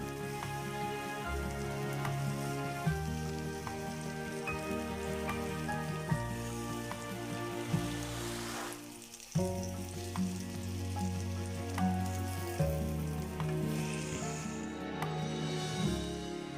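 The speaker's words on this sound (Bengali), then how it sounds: "একইভাবে আমি দোনোটা পাশ ভালোভাবে ভেজে নিয়েছি" Eggplant slices frying in a pan for a Bengali egg and eggplant dish, a steady oily sizzle with crackle running throughout. Sustained tonal music plays over it and stays louder than the frying.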